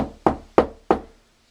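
Three firm, evenly spaced knocks land close up on a wooden chamber door in quick succession, each ringing briefly before fading, followed by silence.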